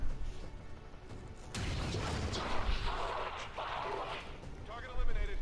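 Gunshot in XCOM 2, a sudden loud blast followed by rumbling crash and debris noise, with talking over it.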